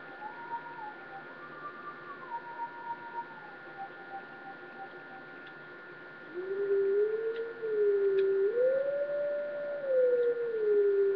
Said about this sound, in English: Right now, I want to howl.